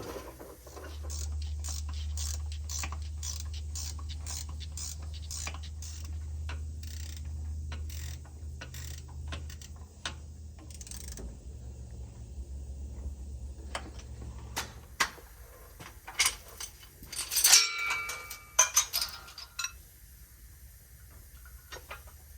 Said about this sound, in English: we got all of our mounting nuts tightened up